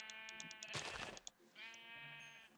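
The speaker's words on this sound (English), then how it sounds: "Ooh, sheep." Minecraft sheep bleating twice in quick succession, a clear wavering baa each time, close and alone with no talk.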